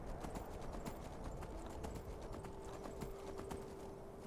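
Hooves of a horse being ridden in the video game Skyrim clip-clop in a steady, quick rhythm, moderately close, with a faint sustained tone running underneath.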